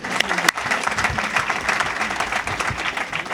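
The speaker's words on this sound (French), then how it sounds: "Il faut encore les applaudir." Audience applause at a ceremony in Côte d'Ivoire, a steady wash of clapping that stays dense and loud across the whole moment, with a brief sharp accent near the start.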